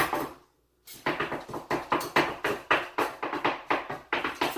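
Rapid rhythmic chopping on a hibachi griddle, a spatula clacking repeatedly against the metal surface in quick even strikes after a brief pause, loud and close.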